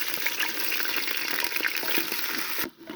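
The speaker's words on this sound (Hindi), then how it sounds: "जैसे ही ऑयल गर्म होगा, ये मेरे पास दरमियाने साइज़ का कटा हुआ प्याज है, ये शामिल करेंगे।" Medium-size chopped onion frying in hot cooking oil in a pot, a dense steady sizzle with crackling pops, close and loud, dropping off sharply near the end, with no talking.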